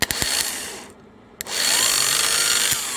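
A Toyota Tacoma starter motor spins freely on direct current, a loud high whirring buzz that cuts out for about half a second with a click, then resumes with a rising whine and steady drone.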